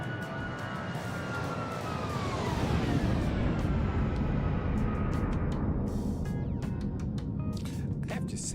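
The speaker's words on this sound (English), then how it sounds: "some of the flyby sounds on some of these airplanes is really, really good" An airplane flies past in a flight simulator, its engine whine sweeping downward in pitch as it passes and recedes, steady and moderately loud over a broad roar.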